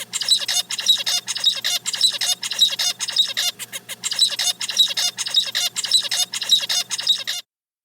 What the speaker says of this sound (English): Here's an example of a zebra finch singing.